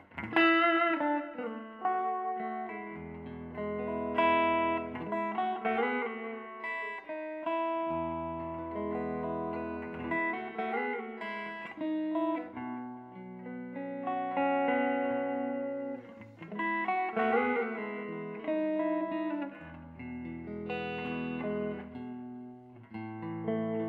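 Electric guitar played through an amp with the tone knobs rolled down, a warm, softened open sound with ringing chords and single notes, steady and close with no talking.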